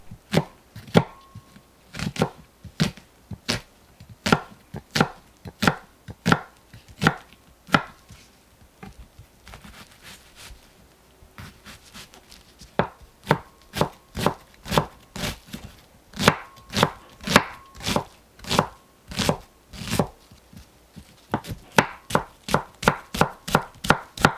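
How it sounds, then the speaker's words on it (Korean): A knife chops an onion rapidly and steadily on a cutting board, sharp close taps in long runs with a few brief pauses between bursts. "양파를 다집니다."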